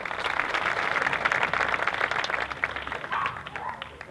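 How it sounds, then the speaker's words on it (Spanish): An audience applauds at a political campaign event on hospitality and precarious work in Calvià, Mallorca, dense sustained clapping from a sizeable crowd that holds steady, then begins to thin toward the end. "pido por favor un gran aplauso"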